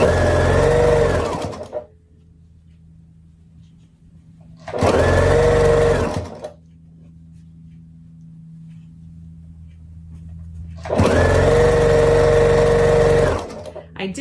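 A home sewing machine pieces quilt blocks, feeding two blocks through at once: three loud bursts of rapid stitching, each a couple of seconds long, separated by pauses where a low steady hum continues.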